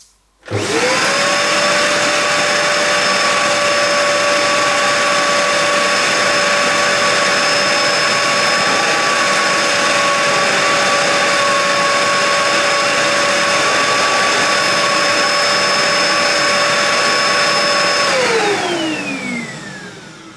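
A Dyson DC02 bagless cylinder vacuum cleaner starts and runs on carpet with a loud, steady motor whine and airflow roar, holding an even pitch for many seconds before winding down at the end.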